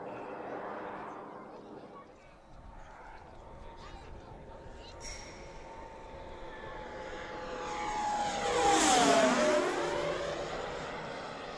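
A model Me 163 jet aircraft flies over a model airfield, its engine whine building from distant to loud as it sweeps close past with a sharp pitch drop, then fading, while someone comments over it.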